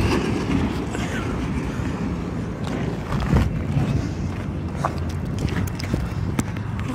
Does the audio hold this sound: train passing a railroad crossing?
yes